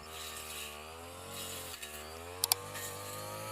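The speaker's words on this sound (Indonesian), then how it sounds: "saya lebih memilih menggunakan mesin potong rumput untuk membasmi gulma atau rumput di lahan pinang saya" A gasoline grass trimmer runs steadily while cutting weeds in an areca palm plantation in West Nias, a loud continuous engine whine with a couple of brief clacks near the end.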